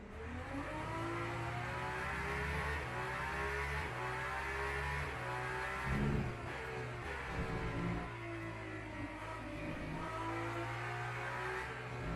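Race car engine in the Le Mans Ultimate racing game, a steady mid-pitched drone with rising and falling revs through gear changes, held at moderate loudness throughout with no talk over it.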